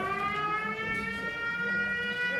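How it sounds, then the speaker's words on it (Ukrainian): A Ukrainian air raid alert siren wails during a municipal council session, a steady, loud, slowly rising mechanical tone with rich harmonics that sounds continuously with no talking over it. "Повітряна тривога."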